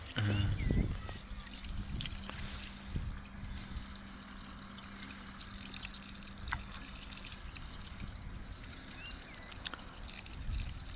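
A thin stream of water trickles steadily from a pipe near a well, a soft, continuous outdoor flow heard at low level with faint voices in the background.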